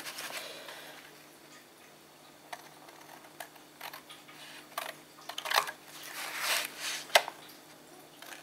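Paper being cut for a handmade mini album built around a calendar: quiet scissor snips and soft paper rustles, sparse at first, then quicker crisp cuts near the end, close and faint.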